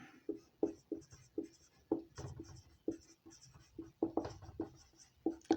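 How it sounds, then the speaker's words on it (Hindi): A question being written on a board during a Hindi-language NEET biology lecture about the heart: a close, steady run of short scratchy strokes and taps, with no talking. "इसलिए मैं क्वेश्चन लिखता हूं यहां पे"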